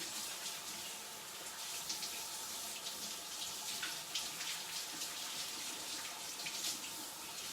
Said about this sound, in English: And I'm gonna rinse that out